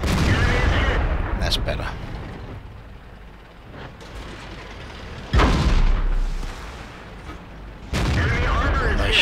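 A Chinese Type 59 tier 8 premium medium tank in World of Tanks fires its cannon, heavy booming shots at irregular intervals, each with a long decaying rumble, as someone speaks briefly between them.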